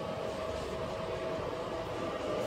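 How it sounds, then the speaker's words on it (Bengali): A Kolkata Metro Yellow Line train, powered by a third rail, enters its underground tunnel, heard from inside the carriage as a steady rumble with a constant tonal hum. "আমাদের মেট্রো মাটির তলায় প্রবেশ করলো।"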